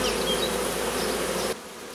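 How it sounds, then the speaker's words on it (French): Dense, close buzzing of a honeybee swarm fills the air, then drops suddenly to a quieter hum near the end. "c'est l'essaim qui va aller chez Claude dans une ruche"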